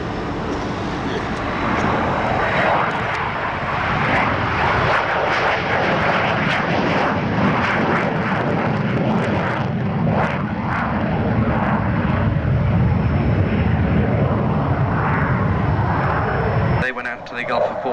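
A Buccaneer jet in dirty configuration makes a low pass at an air show, its engine roar loud, broad and steady for most of the pass before cutting off abruptly near the end, with faint voices beneath.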